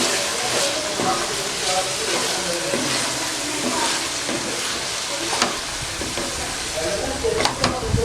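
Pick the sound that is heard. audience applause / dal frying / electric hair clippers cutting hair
dal frying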